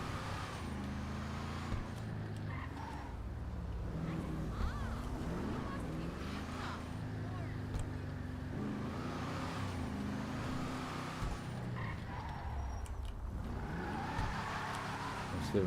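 Lowrider car engine in GTA 5, fitted with a fully upgraded turbo, engine, transmission and brakes, droning steadily throughout with shifting revs as it drives, mixed with road and tire noise at moderate level.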